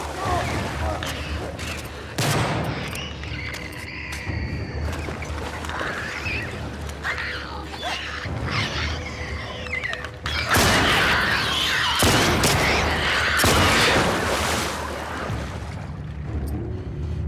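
Bursts of game gunfire from a firefight in The Last of Us Part 2, loud and dense at first, thinning to sporadic shots and booms, mixed with game sound and music.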